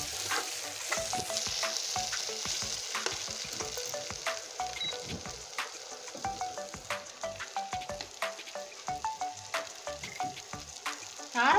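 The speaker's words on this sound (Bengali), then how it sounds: "এবার আলুটা আমি সুন্দর করে কষতে থাকবো, মশলা আলু একসঙ্গে কষতে থাকবো।" Potatoes and spices fry and get stirred in a hot pan for a homemade rohu fish curry with potato and pointed gourd, giving a steady close sizzle broken by frequent scraping clinks of the spatula in a quick, uneven rhythm.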